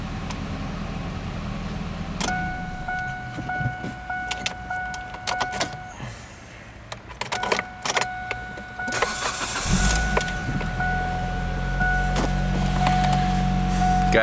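A Kia with a crank no-start fault, accidentally unplugged engine computer, cranking and then catching; whirring starter and electrical whine give way to the engine firing and settling into a loud rough idle, with no talk.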